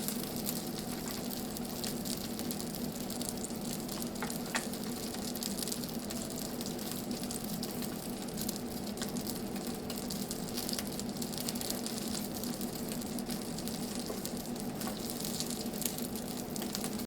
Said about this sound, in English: We want that oil touching it, because that oil is going to fry that skin